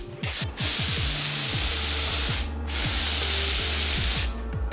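Aerosol spray can laying a light first coat of hammer-tone paint, two long hissing bursts separated by brief pauses, close and loud, with a third burst starting at the end.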